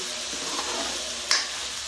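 Oil sizzles steadily in a hot pan as spices fry, with a couple of sharp clinks of a utensil near the end.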